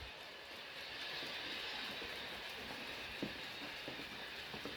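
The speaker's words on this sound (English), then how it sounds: "Got 100 car train stretched across my swing gate." A 100-car model hopper train rolls across a home layout on a swing gate, a steady close rumble with faint ticking wheel clicks and no voices.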